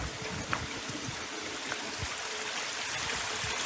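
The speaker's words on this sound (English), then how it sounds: "Just hear the running of water." Gentle running water from a nearby stream, a continuous soft trickle and babble with occasional small splashes, no voices.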